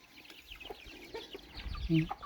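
Soft clucking of chickens at a farmyard, a few short calls over quiet outdoor background noise.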